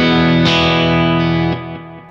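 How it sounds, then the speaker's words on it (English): Electric guitar through a Kemper with the soft shaper light drive engaged, a strummed chord ringing out warm and slightly driven, followed by a couple of fresh strikes as the sound slowly decays, close and loud without talk. "So boom, soft shaper's on,"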